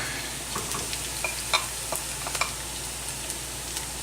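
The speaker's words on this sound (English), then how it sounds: "We're going to add our pancetta." Pancetta frying in a pan for a gnocchi dish with roasted garlic and cream, giving a steady soft sizzle with occasional crackles and stirring scrapes, heard alone without talk.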